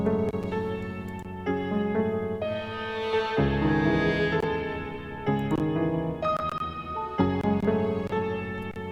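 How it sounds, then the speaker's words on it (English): Trap beat melodies from a lead piano and strings layered together in the beat, playing a steady, full harmonic loop with rhythmic chord changes and no voices. "so altogether so far those three melodies, the pianos and the strings, sound like this."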